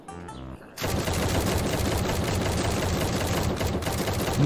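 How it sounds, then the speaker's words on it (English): Rapid automatic gunfire from a zombie survival video game erupts after a brief lull and keeps up as a dense, loud, continuous barrage through to the end. "Can you stop shooting the ground and shoot his head?"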